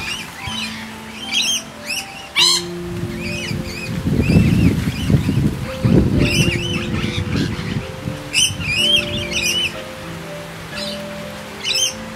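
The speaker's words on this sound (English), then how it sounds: "Beautiful birds." Noisy miners (black-headed, Manorina melanocephala) in a Brisbane garden give repeated sharp chirps and squawking calls in bursts, near and fairly loud, over a low rumbling background.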